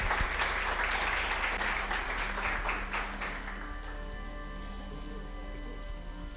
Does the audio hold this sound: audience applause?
yes